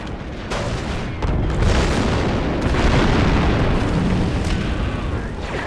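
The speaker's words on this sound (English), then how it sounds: "The charge is set and ready to detonate." A set charge detonating in Star Wars Republic Commando: a deep booming blast that swells into a sustained rumbling roar, loud and close.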